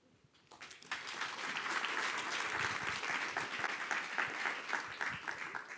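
At a nature conservation lightning talk session, an audience breaks into applause, a steady wash of clapping that starts abruptly after a quiet moment and holds at an even level throughout.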